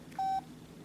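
A single short dialing tone beeps on a Pantech Hotshot mobile phone while calling voicemail, clean and steady for a fraction of a second over quiet background hiss.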